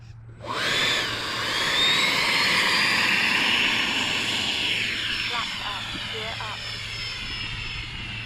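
A Freewing A6 Intruder radio-controlled model jet with flaps down flies past, its ducted-fan whine rising quickly and holding loud, then easing slightly as it moves away; a voice speaks briefly near the end.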